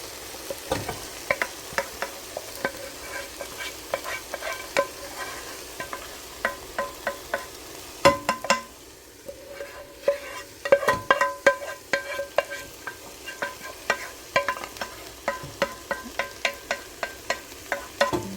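Cleaned split peas being tipped and scraped into a pot for split pea soup: a run of close, sharp clicks and rattles against a quiet background, without talking.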